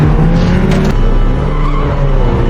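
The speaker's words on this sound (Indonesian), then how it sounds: "Namun saat hendak menghentikan mobil itu, Chris nyaris saja tertabrak." A car in a film scene speeds past a man and nearly runs him down: a loud, close engine roar with a hint of tire squeal, sweeping by in a rush and fading into road noise.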